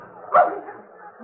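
A dog lets out a single short bark or yip, fairly close and brief, against a quiet outdoor background.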